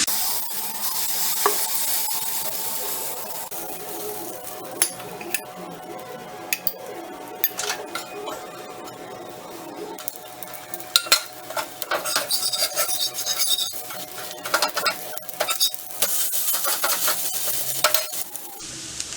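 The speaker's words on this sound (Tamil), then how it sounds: "இப்போ நம்ம தோசை ஊற்றலாம்." Instant dosa batter, made without Eno or soda, is poured and spread thin on a hot pan for a crisp dosa. It gives a steady close sizzle with scraping and rasping strokes throughout and occasional sharper clinks.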